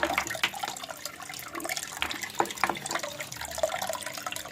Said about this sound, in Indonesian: Ini pompanya di sini, pompa airnya di sini.